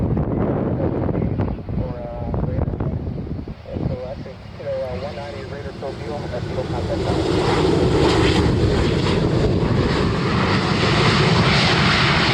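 An airliner on an inbound flight from Atlanta passes overhead at a plane-spotting site, a loud, rising jet roar that builds and holds, with wind buffeting the microphone and a voice heard early on.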